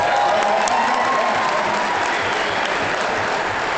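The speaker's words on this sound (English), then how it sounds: "Don't applaud when you agree with me." Loud, sustained applause from a large crowd at a Kevin Smith talk, dense clapping filling the whole stretch at a steady level.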